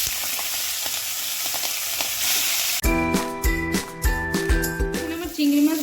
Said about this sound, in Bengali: এবার আমি এই তেলেই সামান্য হলুদ গুঁড়ো দিয়ে দেবো আর সামান্য নুন দিয়ে আমি চিংড়ি মাছগুলো ভেজে নেব।